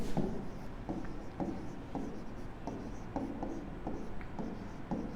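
Pen writing a bank account debit entry by hand on paper, a series of short scratchy strokes repeating at a steady rhythm, close and fairly quiet over a low background hum, with no voices.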